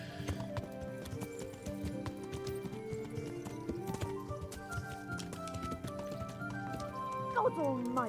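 Horse hooves clip-clop steadily in the medieval role-playing game Kingdom Come: Deliverance, set against a constant music bed, with a horse whinny near the end.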